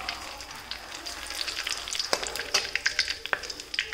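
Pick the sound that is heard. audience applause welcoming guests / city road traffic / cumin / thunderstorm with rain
cumin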